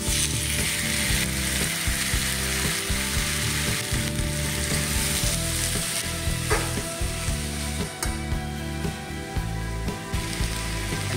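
Eggplant frying in a pan with spring onion, a loud continuous sizzle with stirring scrapes and rhythmic clicking, no talking.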